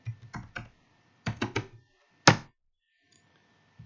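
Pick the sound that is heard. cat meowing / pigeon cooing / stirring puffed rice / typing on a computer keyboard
typing on a computer keyboard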